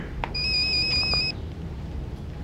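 A mobile phone rings with a bright electronic tone, a steady warbling chime lasting about a second before cutting off, followed by quiet room tone.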